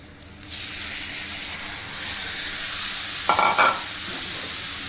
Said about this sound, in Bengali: মশলার সঙ্গে ভালো করে কষবো।